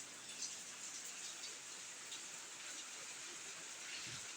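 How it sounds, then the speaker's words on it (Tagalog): Steady, heavy rain from a typhoon pours down in a constant dense hiss, with no voices over it. "Ang lakas po ng ulan."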